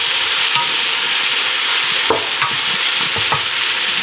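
Food stir-fries loudly over high heat, a roaring unbroken sizzle close by with several sharp spatula scrapes and taps, and no voices.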